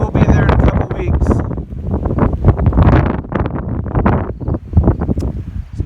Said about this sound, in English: So it's a little windy up here